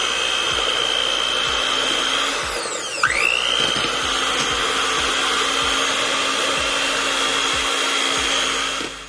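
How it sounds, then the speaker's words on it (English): An electric hand mixer whirs steadily and loudly while mixing oatmeal raisin cookie dough, with a brief pitch sweep partway through and rhythmic knocks of the beaters against the bowl. "so I have my mixer right here"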